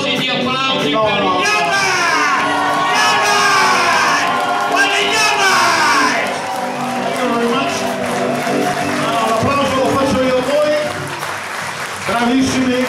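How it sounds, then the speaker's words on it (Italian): A crowd at an Elvis tribute show in Erba, Italy, claps and cheers over lively chatter and shouts, the applause sustained and fairly close throughout. "una apoteosi di applausi"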